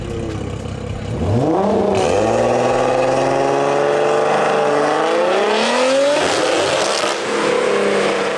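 A big-turbo BMW F30 340i launches on a quarter-mile drag pass, engine revs climbing through several upshifts in rising sweeps, loud and close from inside the car, with turbo whine.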